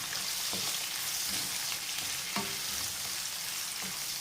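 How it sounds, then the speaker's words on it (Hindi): Onions sauté in hot oil in a pan for a spinach and fried egg dish, giving a continuous, soft, close sizzle broken by a few gentle stirring knocks, with no talking. "इसमें अब प्याज डालते हैं। ठीक है, इसको थोड़ा सा सौते करेंगे।"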